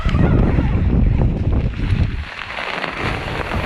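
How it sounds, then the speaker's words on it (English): Strong, blustery wind roars across a mountain summit in atrocious weather, a loud continuous buffeting with gusts that batter the microphone throughout, no voices heard. "Really blustery, horrible conditions up on the hill."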